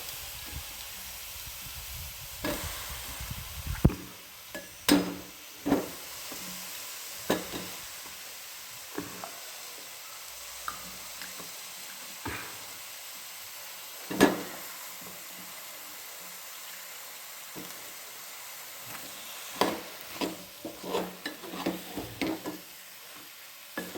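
Green spice masala sizzles softly in a pan while a spoon scrapes and clatters against the metal in scattered bursts, the frying hiss staying low and steady underneath.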